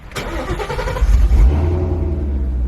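A car engine cranks, catches and revs with a deep, throaty rumble through a Corsa Extreme cat-back exhaust, then settles into a loud idle.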